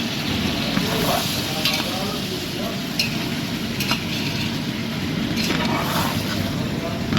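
Sliced tomatoes sauté lightly in a pan with a steady, close sizzle and some stirring throughout, while a person talks over the cooking.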